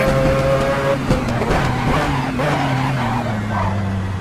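A 787B race car in a video game braking hard with locking tires, a loud engine note sliding downward in pitch as tire squeal and skidding break in, heard close and continuous.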